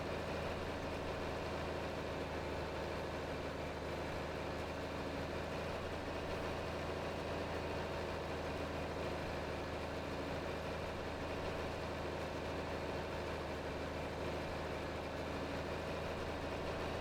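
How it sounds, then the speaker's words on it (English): A John Deere 4020 tractor engine in Farming Simulator 22 idles steadily at a constant low rumble, loud and unbroken, with no voices over it. "Gotta say, nothing like planting with a good old John Deere 4020, right?"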